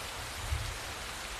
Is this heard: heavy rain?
yes